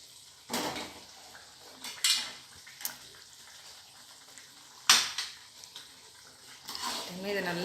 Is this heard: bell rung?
no